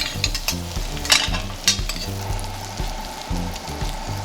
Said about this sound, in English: Throw a little butter in there. I'm gonna go with a tiny bit of Tabasco. And now we're just basting it up.